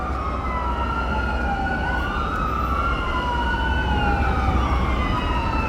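Emergency vehicle sirens answering a 3 AM fire alarm wail and sweep up and down over a steady low rumble of traffic, several tones overlapping at a distance as they draw nearer.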